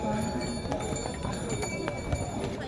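Horses walk along the mountain trail to Kedarnath, their hooves clopping in an irregular rhythm at moderate distance amid crowd noise, with a bell-like tinkle now and then.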